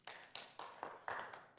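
Applause at a city council meeting: several bursts of hand clapping in an uneven rhythm, fairly faint and a little distant, with no voices over it.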